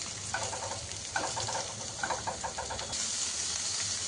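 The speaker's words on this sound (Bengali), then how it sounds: "পেঁয়াজ আর রসুনটা ভালো করে ভাজা ভাজা করে নেব" Onion and garlic frying in a pan for a prawn and lentil mash, a soft, steady hiss and sizzle close by, with a few brief stirring scrapes.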